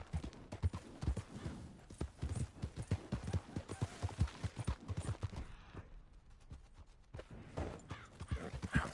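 Horse hooves clip-clop in Red Dead Redemption II, a steady brisk trot of hoofbeats close by with soft ambient game sound beneath.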